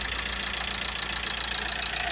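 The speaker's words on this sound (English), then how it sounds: "started the engine up now" A VW T5 Transporter van with a 1.9 TDI diesel engine idles steadily with a turbo boost fault, giving a constant close rumble and even diesel clatter with no talk.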